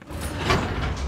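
A door slides open in Wolfenstein Youngblood, a single close mechanical whoosh and grind lasting about a second with no talk over it.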